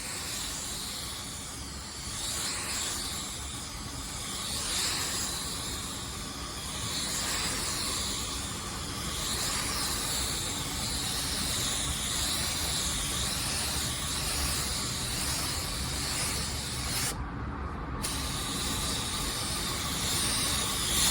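Spray gun laying a light drop coat of car paint onto a fender's edge, a steady close airy hiss that runs nearly unbroken for about twenty seconds, with slight surges as the passes change and no talking.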